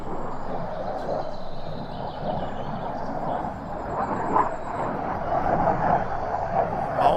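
A Mirage military jet passing overhead makes a distant, continuous broad roar that swells slightly as it goes by outdoors.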